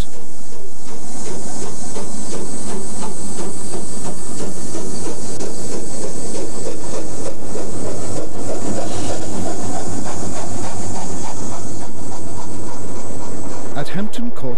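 A train on the LSWR main line out of Waterloo runs past, a loud continuous rumble and hiss of wheels and carriages heard close by with a sharp burst of noise near the end.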